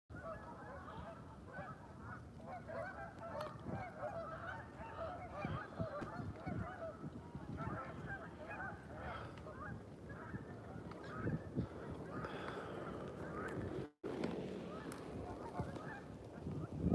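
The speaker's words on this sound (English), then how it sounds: "I would love to be able to translate what those geese are saying right now." Geese honk repeatedly from out on icy cold water, a busy overlapping chorus at moderate distance against a steady outdoor hush, with one brief dropout.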